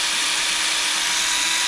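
A power drill grinds steadily into a Toyota Supra part, making a continuous, close, bright whine with a harsh gritty edge and no pauses.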